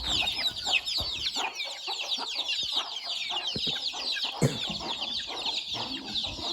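Native country chickens cluck and chatter continuously in a poultry shed, a steady mix of hens and roosters close by with no talk.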